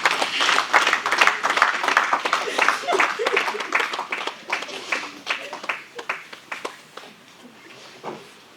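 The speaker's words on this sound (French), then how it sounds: "Acclamons pour les encouragements." Mourners at a funeral in Paris clap in a dense, steady wave of applause that gradually thins and fades toward the end, with some voices mixed in.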